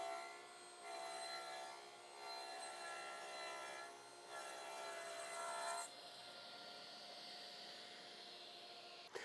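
Table saw trimming the rough edge of an aspenite board, a steady close whining cut that swells and eases several times, then drops to a lower hum.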